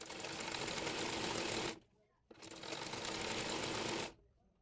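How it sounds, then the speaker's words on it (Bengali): A sewing machine stitches the neckline of a round garment in two long, steady runs of dense mechanical whirring, close and loud, separated by a short pause. "একইভাবে অপর পাশের গলাটিও সেলাই করে নেব।"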